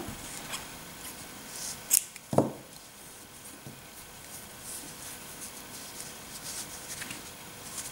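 Scissors snip through crochet yarn with one or two quick, close cuts, heard alone against a quiet background.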